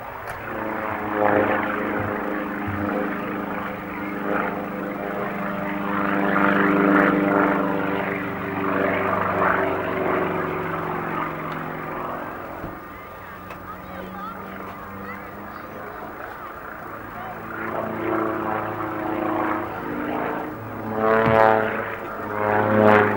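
A propeller aircraft flies an aerobatic display at the Farnborough Air Show, its engine droning and rising and falling in pitch as it passes, loud and steady, with a commentator speaking over the display.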